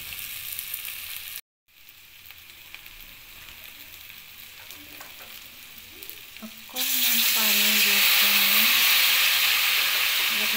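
Sesame seeds frying in a pan for a sesame broiler chicken dish make a soft crackle that gives way to a loud, bright sizzle and hiss when liquid hits the hot pan, continuing steadily to the end.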